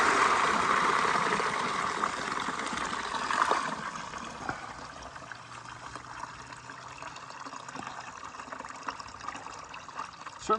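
Water drains from a Detroit Diesel radiator as its pressure is released, a loud rushing pour at first that eases after a few seconds into a steady trickling flow.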